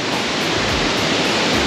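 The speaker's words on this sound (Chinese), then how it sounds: "在我的后方呢，这个就是精英瀑布，然后非常的美哦。" Jingying Waterfall above a wild hot spring in Ren'ai, Nantou, pours down layered rock cliffs, a loud, close, continuous rushing roar of falling water with no break.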